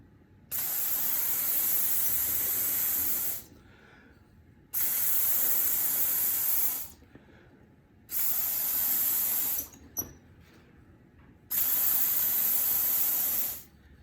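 Fine mist sprayed onto a pottery casserole dish by mouth-blown sprayer while glazing for a gas kiln firing: four long, steady hissing bursts of about three seconds each, separated by short quiet pauses.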